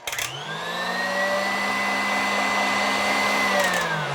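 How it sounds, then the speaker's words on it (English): A kitchen blender runs on high, mixing a yogurt mixture for a protein bun dough, a steady loud whirring motor that starts, holds for several seconds, then winds down. "I'm going to mix this on high to make sure it's all well incorporated."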